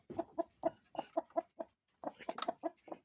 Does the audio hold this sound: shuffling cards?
no